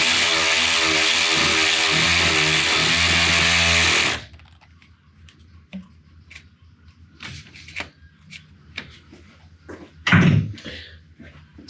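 A cordless wrench on a car with a dying battery whirs loudly and steadily for about four seconds, then cuts out; quieter clicks and metallic handling follow, with one louder knock near the end.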